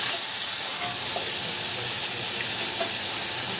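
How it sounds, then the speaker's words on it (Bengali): Vegetables with salt and turmeric are stirred in a hot pan, a continuous soft sizzle and hiss with a few faint scrapes, no talking. "নুন হলুদ দিয়ে ভালো করে সব মিশিয়ে দিচ্ছি।"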